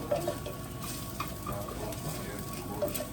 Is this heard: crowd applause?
no